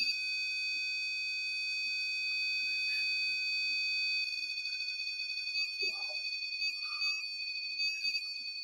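A REM pod paranormal detector sounds a steady, piercing electronic alarm tone that holds throughout, then turns pulsing and warbling partway, with faint background noises and a brief muffled sound beneath.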